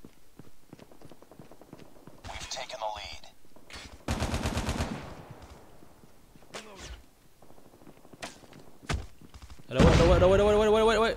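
Bursts of gunfire from the mobile shooter Call of Duty Mobile, with rapid automatic volleys and single shots spread across the clip, the loudest burst near the end, amid game sounds.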